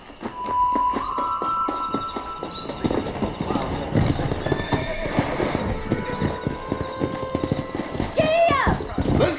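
Horse hooves clip-clop at a gallop in the Red Dead Redemption Remastered western video game, a steady rapid beat with a whinny near the start, under background music and talk.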